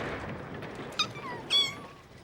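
A cat with her kittens gives two short, high meows about half a second apart, faint and close, over a quiet background with no talk.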